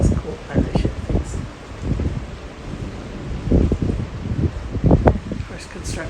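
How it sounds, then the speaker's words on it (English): Gusty wind blows outdoors in Grand Cayman, rumbling and buffeting the microphone in uneven surges, with a person talking over it. "It's windy."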